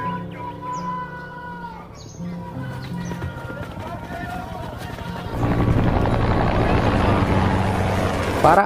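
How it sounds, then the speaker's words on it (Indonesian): Two police helicopters in a film scene about Pablo Escobar, heard as a steady rotor drone that swells louder and denser in the second half, with music-like tones over it early on. "Tiba-tiba, 2 helikopter kepolisian muncul dan hendak menangkap Pablo."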